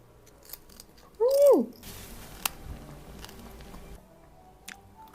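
Crispy roasted pork knuckle skin being chewed at a restaurant in Prague gives faint, close crunching and squishing bites after a short, louder hummed vocal sound.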